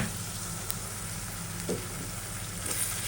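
Chickpea curry masala with ground garlic and ginger fries in a pan, a continuous soft sizzle heard close but quietly, with a faint stir or two and no talking.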